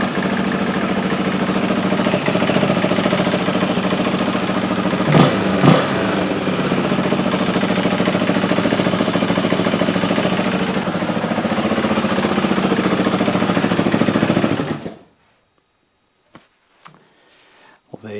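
A Honda XR400 motorcycle engine idles with a steady, throbbing rumble for a long stretch, then cuts off abruptly into near silence with a few faint clicks.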